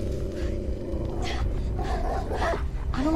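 A dog growls low and continuously in the video game Beyond Two Souls, a loud rumbling snarl with rising bursts near the end over game sound.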